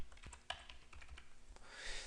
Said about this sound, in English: So in this little drop-down menu, we want to start typing in Mark Newman.